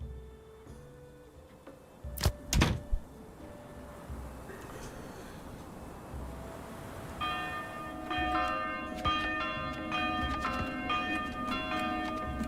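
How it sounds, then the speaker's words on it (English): Church bells toll in the medieval village game Manor Lords, a couple of loud close strikes followed by a denser, layered peal from bells set at different tones over a soft ambient background. "If you have two churches and you set the bells at different tones, they'll ring offset and have like different sounds."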